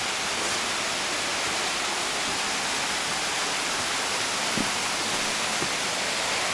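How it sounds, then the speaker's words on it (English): A waterfall on a cliff-top hike near Blackheath in the Blue Mountains gives a steady, full rushing roar that holds unchanged throughout, with no voices over it. "Oh, there's a nice waterfall there."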